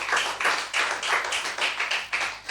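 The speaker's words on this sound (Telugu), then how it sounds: "చప్పట్లు కొట్టండి ఒకసారి" A church congregation clapping together in a steady rhythmic beat, about four claps per second, loud and continuous throughout.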